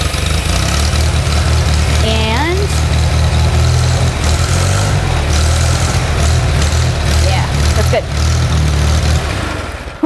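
A Farmall tractor engine idles loud and close, with a steady low rumble throughout. A brief mechanical whine sweeps up near the start, and someone speaks briefly over the running engine.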